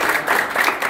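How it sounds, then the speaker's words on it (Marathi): Loud, dense applause from an audience at a Ganesh festival gathering during a district police superintendent's visit to a Ganesh federation office, sustained and close throughout. "जोरदार टाळ्या सरांचे ऋण व्यक्त करूया।"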